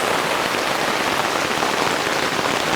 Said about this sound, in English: Well, this monsoon continues.